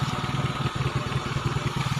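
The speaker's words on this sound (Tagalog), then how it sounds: "Alright, 130cc Honda Scoopy." A Honda Scoopy scooter bored to 130cc runs steadily at idle, its engine putting out an even, close putter with a slight clatter and no talking over it.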